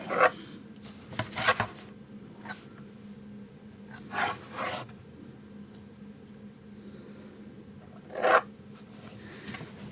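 Palette knife scraping acrylic paint across canvas, heard as a few short, close rasping strokes separated by quiet pauses, with no talking.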